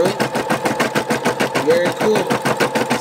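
A Brother embroidery machine stitching a stipple stitch on an in-the-hoop felt Christmas stocking, with a fast, steady mechanical chatter that stays loud and even throughout.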